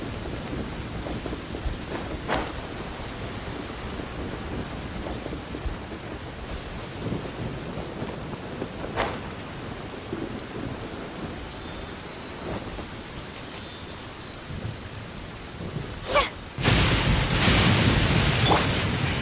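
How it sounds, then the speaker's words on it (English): Pouring rain in Genshin Impact hisses steadily and densely, with thunder booming and rumbling at intervals and a louder downpour surge near the end. "It's pouring out here!"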